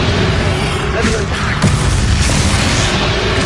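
A Bombarda explosion spell in a PS5 video game bursts loudly, with booming blasts and crashing impacts layered over dense battle noise.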